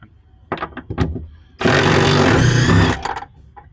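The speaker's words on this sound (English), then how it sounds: "So this is a 18mm socket that we're using here." An 18mm socket on a ratchet backs bolts out of a Jeep JK: a few short clicking bursts, then one loud, close, grinding run of about a second, followed by brief clicks.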